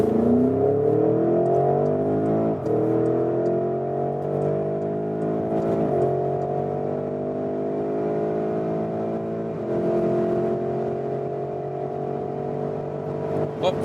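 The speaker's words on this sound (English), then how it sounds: "wow, what an impressive acceleration and great sound as well from this 4-liter V8 bi-turbo" A 2021 Porsche Cayenne GTS Coupe with a 4-liter twin-turbo V8 accelerates hard from a rolling start, its engine roaring close and loud through several rising gear pulls with brief dips at each shift.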